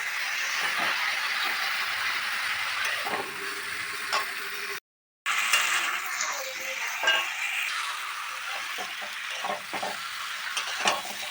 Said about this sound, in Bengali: বন্ধুরা, মাংস কষানোর সময় একটু লো ফ্লেমে দেবেন, মাংসটা কষা ভালো হবে।